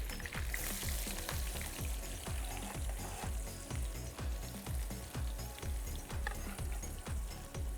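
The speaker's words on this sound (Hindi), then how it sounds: "थिन स्लाइसिस में काट दिया और ये हमने शामिल कर दिया गरम तेल के अंदर" Thinly sliced onions frying in hot oil in a kitchen, a loud steady sizzle with dense crackling and regular scraping stirs of a spoon throughout, no talking.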